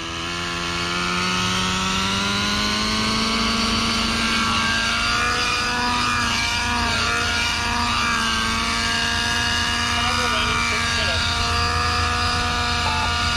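An Align Trex 600 nitro RC helicopter engine spools up from idle into a loud, sustained buzzing whine with rising rotor pitch, steady and close throughout.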